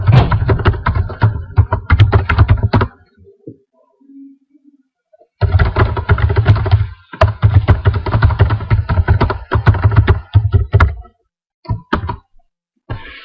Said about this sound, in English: I can type in additional text and anything that I want to type